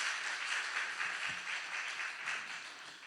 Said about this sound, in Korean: 우리 뜨겁게 환영과 사랑의 박수로 환영하겠습니다.